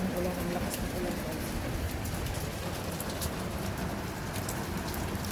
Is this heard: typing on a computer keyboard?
no